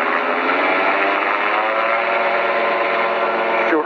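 The engine of a Magni gyrocopter runs at steady power after being restarted following engine-out practice, a loud, close, sustained propeller and engine drone that holds level throughout and dips slightly at the end.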